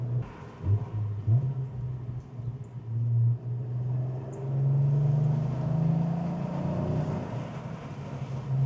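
A Cadillac CT4-V Blackwing tuned to 500 hp with a JB4, heard from inside the cabin while driving: a deep, steady exhaust burble and engine drone that swells and eases, muffled by insulation, with no speech.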